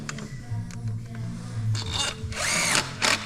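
A power tool whirs in short bursts while clamping down a new coil pack on a 2015 Vauxhall Astra, with a louder, longer run near the end over faint workshop rattles.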